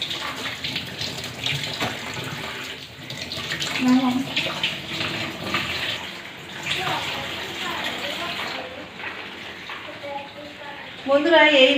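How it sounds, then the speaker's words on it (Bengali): Tap water runs steadily into a sink while freshly cut fish is washed at home, with splashing and handling noises throughout and a voice talking over the flow. "মাছ কাটা হয়ে গিয়েছে, এবার মাছ ধুয়ে নেব।"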